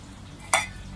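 A brief burst of sizzling as boiled eggs, cut on four sides, hit hot oil in a pan for egg curry, a short sharp frying hiss rising once over a quiet kitchen background.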